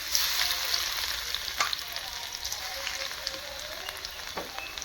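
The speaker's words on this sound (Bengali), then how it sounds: "প্রথমে রসুনটাকে একটু নেড়ে ভেজে নেব।" Chopped garlic with nigella seeds frying and being stirred in hot oil gives a steady close crackling sizzle, with a few sharper pops and utensil scrapes scattered through.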